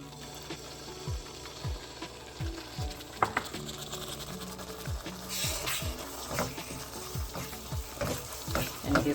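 Thick burfi mixture with saffron being stirred in a pan, a soft background sizzle with scattered scraping strokes and clicks from the spoon at an uneven pace, fairly faint with no talking.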